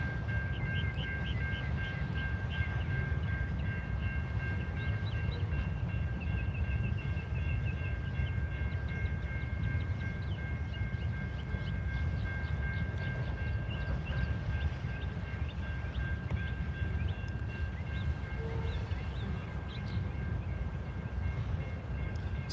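A train rolling past on the rails in Alabama, heard from trackside near its rear: a steady, loud low rumble of wagons with faint high squeal tones running throughout, no talk.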